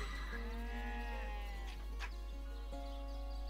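A sheep in the video game Divinity: Original Sin bleats in a few wavering, nasal calls, heard clearly over a quiet game background with no talking.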